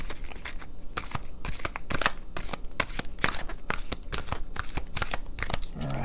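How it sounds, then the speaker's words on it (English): Tarot cards riffled and shuffled by hand, giving a dense run of close, crisp papery flicks and snaps that continue steadily throughout, with no talk over them. "I'm going to pull the third row, and then I might pull some more of the other cards."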